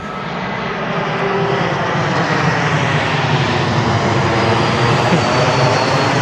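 A propeller airplane droning overhead outdoors, a loud continuous engine rumble that swells slightly and then holds steady with no talking.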